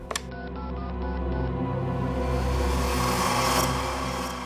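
A telephone being dialed to make a call in a TV crime drama scene: a quick run of short dialing beeps near the start, followed by a sustained tonal background bed.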